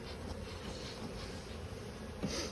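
Honeybees on a hive with a double screen board hum in a steady, dense buzz, close and continuous, with a swarm of wings droning together throughout.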